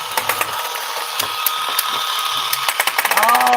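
A small model engine with lights, its internal workings visible, runs with rapid mechanical clicking and ticking, loud and close, ending in a brief rising whir.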